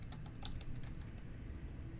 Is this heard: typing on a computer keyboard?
yes